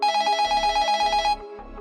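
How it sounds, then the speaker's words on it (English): A telephone rings loudly and close up: a rapid trilling bell bursts in a regular pulsing rhythm, then stops and leaves a quieter tone. "You can answer the phone."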